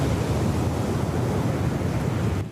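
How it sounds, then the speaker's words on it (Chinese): Large ocean waves and strong typhoon wind from Typhoon Kong-rey batter the Taiwan coast in a continuous, loud, dense roar with no speech, easing slightly at the very end. "海涌一直架起来"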